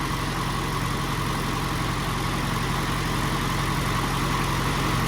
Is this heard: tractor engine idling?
yes